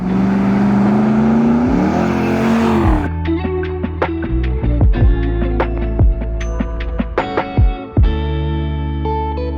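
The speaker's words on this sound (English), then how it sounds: "This 110 is powered by our 450 horsepower GM LT1 engine with 8-speed automatic transmission." Restored 1995 Land Rover Defender 110 with a 450 hp GM LT1 V8 and 8-speed automatic, engine running steadily, then loud clanks, thuds and sharp tonal strikes as the run goes on.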